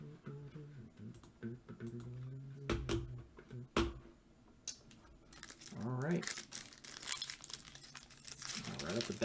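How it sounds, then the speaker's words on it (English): A foil wrapper on a Panini Phoenix football trading card pack is crinkled and torn open up close, with scattered crackles that build into a busy rip near the end, while someone talks throughout. "Right off the bat, I can't open the pack."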